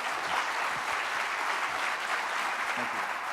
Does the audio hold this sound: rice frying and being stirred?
no